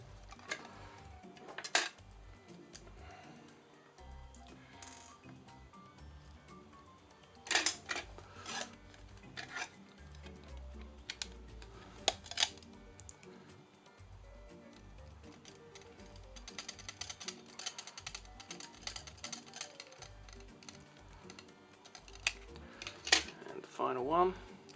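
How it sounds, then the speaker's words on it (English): Small IP screws being driven into plastic and metal parts of an Ecto-1 model car kit, giving faint scattered clicks and scrapes with a few sharper taps, close and quiet. "we're going to screw that there with IP screws"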